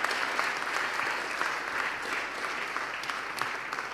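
Dense, steady applause from a large gathering at a Hungarian winter camp, welcoming a newly elected president, sustained at even loudness with no voices on top.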